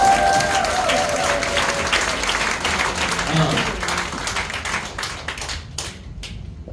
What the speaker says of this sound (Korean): 이제 박수 치세요.